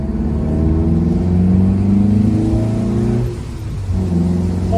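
A Mazda MX-5 NBFL fitted with a sport exhaust accelerates, a steady droning engine note rising in pitch, loud and close, with a brief lift around a gear change before pulling again.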